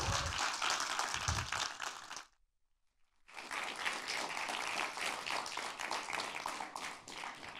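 Audience applause after a high school student's speech at a public speaking contest, a dense crowd clapping loudly, then a brief silence, then a second sustained round of clapping.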